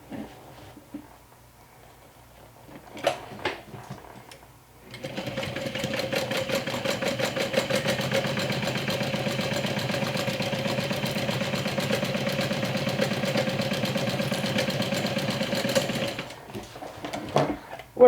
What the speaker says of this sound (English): stitch them down with a 3/8 of an inch seam allowance